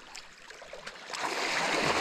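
River stream flowing in Finland, a soft rushing water sound that swells louder toward the end, heard alone without talk.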